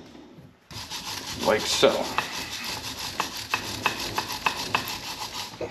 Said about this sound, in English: we're going to use a wire brush here and we're going to clean this up